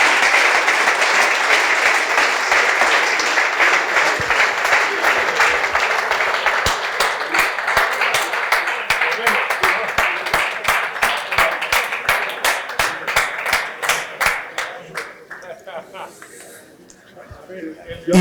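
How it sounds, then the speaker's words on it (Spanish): A conference audience claps loudly for a long stretch, a thick steady roar that breaks into slower individual claps and dies away near the end, with voices under it. "todos se merecen ese aplauso porque todos nos han hecho vivir algo muy chulo"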